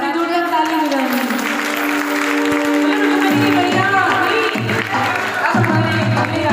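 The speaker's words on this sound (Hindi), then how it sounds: "और आपकी जोड़ियां ताली बजाएंगे।" A crowd at a Shrimad Bhagwat Katha gathering applauds and cheers during a Krishna-Rukmini wedding tableau, a loud continuous wash of clapping and cheering under music and a voice speaking over it.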